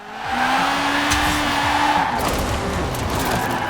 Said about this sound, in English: You gotta drift it like you stole it